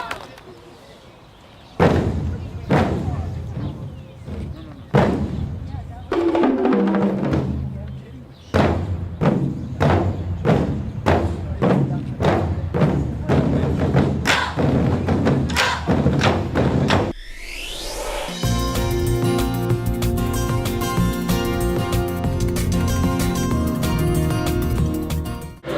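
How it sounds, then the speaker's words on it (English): A Chinese drum ensemble from a percussion music academy performs at an anniversary celebration: loud, booming drum strikes in rapid, driving rhythm, with a rolling crescendo and then a dense sustained wash of drums and cymbals. "are you ready for the Chinese Drum Ensemble by the East Wind Percussion Music Academy?"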